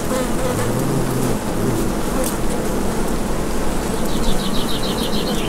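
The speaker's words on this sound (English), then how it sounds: "let you listen to the sound of this hive. It's quite loud, but you'll hear it's nice and low pitched and it's a nice gentle hum" A honeybee hive hums loudly and steadily, a low-pitched gentle drone that fills the whole stretch, with a few buzzing bees passing close near the end.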